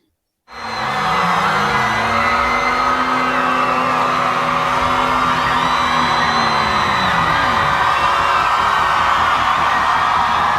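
A large festival crowd at a concert at Reading and Leeds 2019 cheers and whoops in a loud, sustained roar, with sweeping pitched tones sliding underneath, continuous throughout after a brief silent start.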